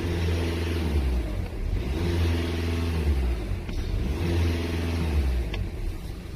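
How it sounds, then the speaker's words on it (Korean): A 2015 Volkswagen Passat with a CFF engine, idling and then revved twice. Two separate rising and falling engine swells sound close and clear over the idle, with no speech. "액셀레이터 두 번 쳐보겠습니다."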